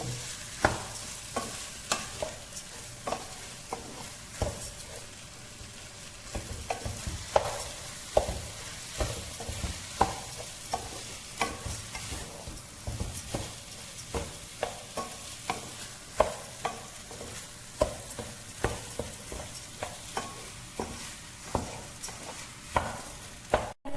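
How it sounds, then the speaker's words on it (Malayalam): Rice grains crackle and sizzle as they roast in a hot pan while a spoon stirs and scrapes in a steady repeating rhythm, close up, with no voices. "ഇതിങ്ങനെ ആയിക്കഴിഞ്ഞാൽ ഒരു പൊരിഞ്ഞൊരു ശബ്ദം ഇങ്ങനെ വരും"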